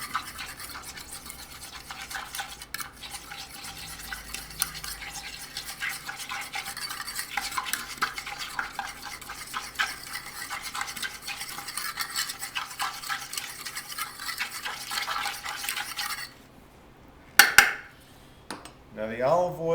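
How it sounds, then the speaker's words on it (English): Whisk or spoon stirring Caesar salad dressing ingredients in a bowl before the olive oil goes in, a steady close scraping and clinking for most of the stretch, then a few sharper knocks near the end. "And then you're going to mix this up really well before you add the olive oil."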